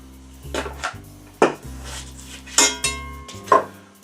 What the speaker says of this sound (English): it's time to move my cast iron skillet over here